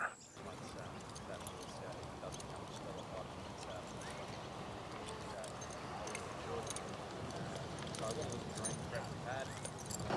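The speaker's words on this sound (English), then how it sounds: "Just a routine canter up the hill." A mare canters slowly up a hill, her hoofbeats a steady, continuous patter of clip-clops mixed into a dense, noisy outdoor wash that holds at an even level throughout.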